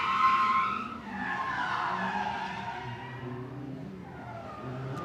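A Mazda Miata drifting at a live event in Mexico, its tires skidding and squealing in a wavering, sliding screech over a steady engine drone, heard from a moderate distance.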